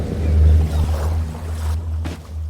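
A low motor drones steadily beneath wind and water noise, like a boat moving on open water, heard for a couple of seconds.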